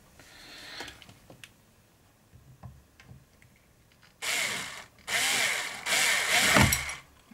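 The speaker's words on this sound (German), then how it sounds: "Jetzt kann man hier schön vorbohren." A cordless drill bores a pilot hole, starting after quieter handling clicks with three loud, close whirring bursts of the motor biting in, each lasting about a second with short stops between.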